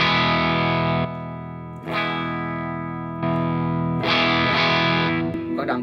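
Electric guitar through a Tech 21 Richie Kotzen RK5 Fly Rig with its clean boost at half, playing chords, ringing sustained strums separated by brief pauses, fairly loud and full with a slight edge.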